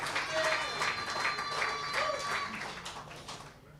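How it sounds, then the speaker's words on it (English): Applause for high school football athletes at a touchdown club coaches show, a small group clapping moderately and steadily, somewhat distant, with voices talking over it. "give a round of applause to our athletes"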